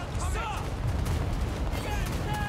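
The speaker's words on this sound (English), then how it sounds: "Let's just blast them again. Hand gunners, ready to fire." Hand gunners in Total War: Warhammer open fire in a battle: a crackling volley of overlapping gunshots over the low rumble of combat, with a voice speaking over the battle sounds.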